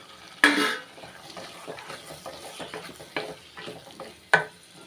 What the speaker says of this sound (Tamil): இப்போ வந்து பச்சை பட்டாணியை சேர்த்துக்கிறேன்